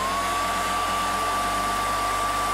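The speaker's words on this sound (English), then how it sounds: "take a hairdryer to the lid of this, because I know for a fact this is like cemented shut" A hairdryer blows steadily on the cemented-shut lid of a jar during a crafting session, a loud, close, continuous whir with a constant high whine, with no talk over it.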